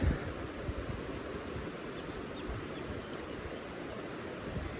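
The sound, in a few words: river stream flowing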